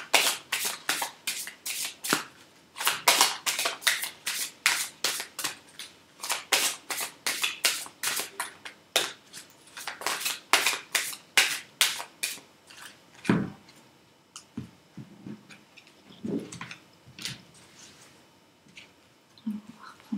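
Tarot cards being shuffled by hand in quick rapid riffles, close and crisp, slowing into scattered softer card handling later.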